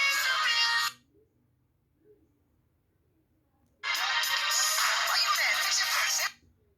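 Nokia N86 ringtone at full volume through the loudspeaker, a bright, tinny melody in two bursts of about one and three seconds separated by near silence, loud and close with no talk.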